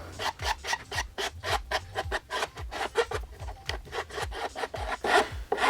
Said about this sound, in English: And now I will just smooth the cut with a nice medium file.